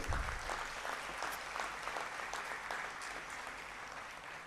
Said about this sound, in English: A big round of applause for all the wonderful young people.